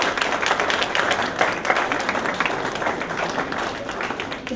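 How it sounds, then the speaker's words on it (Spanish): An audience at a book presentation on Mexican electoral processes gives a round of applause, a dense, steady wash of clapping hands throughout, loud and continuous with no break. "Otro aplauso, por favor."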